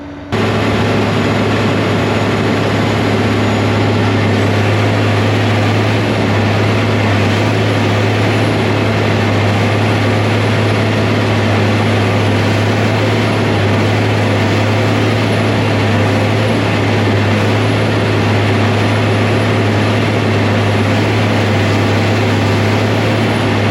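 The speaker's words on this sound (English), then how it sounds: "Chopper's going good." A forage chopper cutting alfalfa runs with a loud, steady mechanical drone and deep engine hum, continuous at constant pitch with no pauses.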